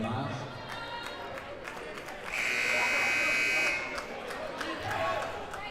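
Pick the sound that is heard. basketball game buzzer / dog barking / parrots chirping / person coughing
basketball game buzzer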